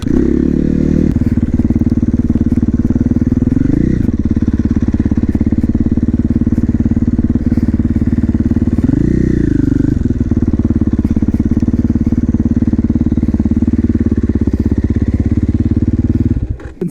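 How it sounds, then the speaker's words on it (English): A 2021 KTM 450 SMR supermoto with street-legal kit idles loud and close, its single-cylinder thump steady throughout, with two brief revs blipping up before settling back to a constant burble. "this is my 2021 KTM 450 SMR"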